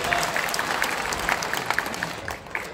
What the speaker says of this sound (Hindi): एक जोरदार तालियां प्लीज।